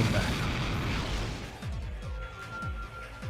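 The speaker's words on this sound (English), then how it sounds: "We blow up Tokyo Tower. It goes kaboom!" Tokyo Tower blown up in the video game Viewtiful Joe 2: a loud rumbling explosion, followed by a series of rapid booming bursts and crashes as debris falls, all close and heavy.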